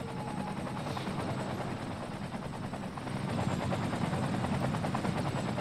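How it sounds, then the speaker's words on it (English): Fire helicopters flying over a city in Cities Skylines, a steady rapid rotor chop that swells slightly louder midway, several aircraft blending into one continuous drone with no talking. "there are a lot of helicopters in the air now"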